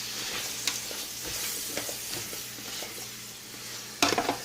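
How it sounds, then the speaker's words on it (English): Onions sautéing in olive oil and butter, with a soft continuous sizzle and intermittent spoon scrapes while they are stirred, close up, ending in a louder burst of clattering stirring. "I'm going to go ahead and stir this, let it saute down a little"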